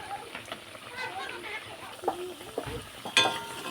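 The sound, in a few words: paratha frying in hot oil in a wok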